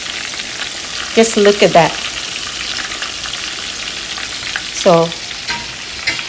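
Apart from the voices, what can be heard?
coconut shrimp frying in hot oil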